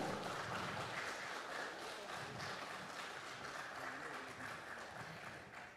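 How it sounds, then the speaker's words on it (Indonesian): Applause from the audience at a formal installation ceremony for a business association, a steady wash of clapping heard from a moderate distance that slowly fades toward the end. "Boleh berikan tepuk tangan Bapak dan Ibu."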